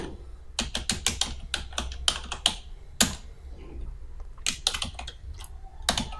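Keys clatter on a computer keyboard as a school name is typed into an Excel spreadsheet, with a quick run of close, crisp keystrokes in uneven bursts and no voice over them.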